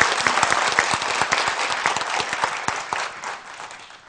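Audience clapping for the Rudra Boyra High School team at a school debate competition, a dense, loud burst of many hands applauding together that gradually thins and fades out.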